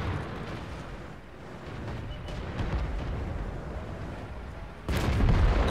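Distant artillery booms and battle rumble in a World War II tank game featuring a Grant and a Panzer IV H, a continuous low roar with a louder blast near the end.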